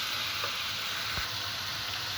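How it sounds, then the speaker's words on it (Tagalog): Vegetables for menudo frying in a pan, a steady soft sizzle running throughout with a brief stir or clatter near the middle, close and alone without talk. "pinipirito ang gulay niya para hindi malabsak"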